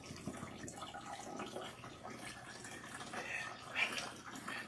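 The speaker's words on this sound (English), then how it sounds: "Rinse out the shampoo until you see that the water is nice and clean" Running water rinses shampoo out of natural hair, a steady broadband wash with soft splashing and dripping that swells and fades, fairly close and continuous with no talk over it.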